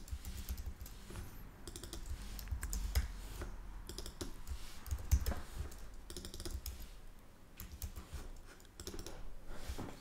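Fingers tap on a computer keyboard in quick irregular bursts of soft clicks with short pauses, close by and quiet.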